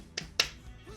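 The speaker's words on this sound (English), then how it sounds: "These claps are making me happy." Two sharp hand claps in a pop song, crisp and close, a couple of beats apart, with faint music under them.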